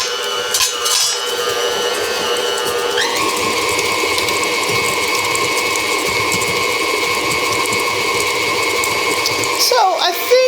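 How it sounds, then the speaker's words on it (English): A stand mixer with a beater blade works through chocolate chip cookie dough, a steady mechanical whir with rhythmic clicking that shifts pitch partway through and runs continuously near the microphone. "this recipe gets my mixer going a little better because it has more ingredients to move around"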